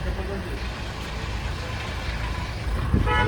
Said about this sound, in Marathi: लय ट्रॅफिक लागले बघा.